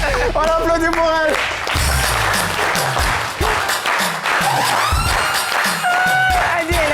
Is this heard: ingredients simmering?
no